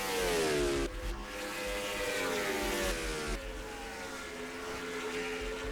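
A race car engine roars in a racing video game at the Wawa Pennsylvania 400 qualifying, holding a steady high whine with pitch sweeps as it shifts through the gears, continuous and fairly loud with no talk.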